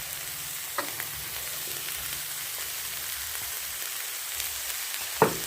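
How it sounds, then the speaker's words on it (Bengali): Hot mustard oil is poured at the side of a pan of frying spinach, and the pan gives a soft, steady sizzle with a few light utensil taps and one louder scrape near the end. "আমি সামান্য সরিষার তেল একটু সাইডে দিয়ে দেবো।"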